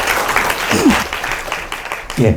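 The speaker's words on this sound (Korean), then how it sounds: "큰 박수 부탁드립니다" An audience claps at the opening of a Friday science lecture in a hall, a brief burst of applause mixed with a host's voice speaking over and around it.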